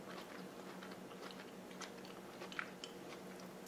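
Someone chews a bite of zucchini noodles tossed in arugula and basil pesto, close up and fairly quiet, with soft moist crunches and small clicks in an irregular rhythm and no talking.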